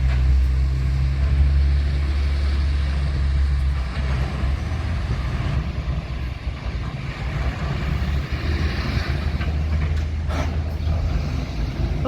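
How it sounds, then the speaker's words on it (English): A convoy of modern army trucks rolls past on a road in northeast France, a loud, continuous low engine and tyre roar that stays steady throughout. "Army trucks, modern day army trucks."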